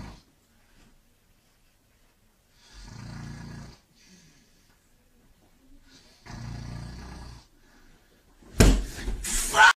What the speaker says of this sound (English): He's been snoring for hours and I can't fucking sleep.